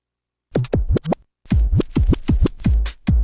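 A short burst of punchy drum hits in a steady, straight pattern from a vinyl record after a brief silence, loud and close with no talking.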